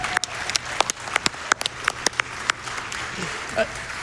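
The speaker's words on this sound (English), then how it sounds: "Give yourselves a round of applause." Audience applause at a Summer Games Done Quick speedrun event for Metal Gear Solid: The Twin Snakes, heard as sparse, separate sharp claps from a small crowd, close and moderately loud, fading toward the end.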